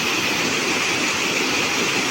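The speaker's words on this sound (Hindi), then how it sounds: "झरना, प्राकृतिक झरना" A natural waterfall near the Taleshwar temple gives a steady, dense rushing roar, loud and unbroken throughout with no voices.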